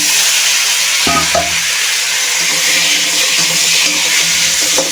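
Bottle gourd and potato with turmeric being stirred in a frying pan, a steady loud sizzle under repeated scraping strokes of the spatula, no talking.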